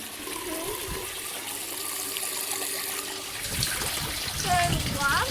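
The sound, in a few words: water flowing out of an aquaponics system pipe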